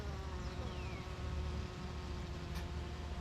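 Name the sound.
honey bees buzzing at a hive during inspection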